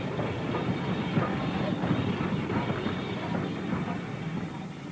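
Steam train running on a working heritage steam railway, a steady broad rumble with rhythmic rail clatter, fairly close and continuous, with no voices.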